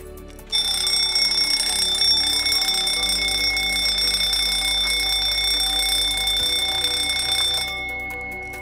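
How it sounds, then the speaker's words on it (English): A shrill electronic fire alarm sounds steadily for several seconds during a smoke detector test, loud and continuous, then cuts off. "we should see that alarm come into the panel."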